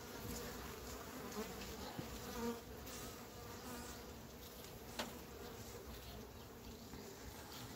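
Honeybees buzzing steadily across a well-populated hive frame during a late-season colony check before overwintering, a close, continuous insect drone with no talk.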